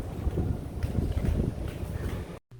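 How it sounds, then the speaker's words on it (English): Strong hurricane wind from Category 4 Hurricane Lidia in Mexico, a loud roaring rumble buffeting the microphone continuously before cutting out briefly at the end. "Can you guys hear that wind?"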